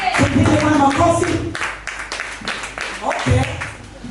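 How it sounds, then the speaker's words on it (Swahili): A church congregation claps hands together in a burst of applause, irregular and lively, with a preacher's voice speaking over and between the claps. "Tupige kwa makofi."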